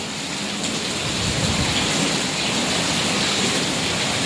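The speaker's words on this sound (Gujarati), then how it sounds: "જે વરસાદ એવો ને એવો ધમધમાટે બોલાવે છે" Heavy thunderstorm rain pours down in a loud, dense, unbroken roar, close by and drowning out everything else.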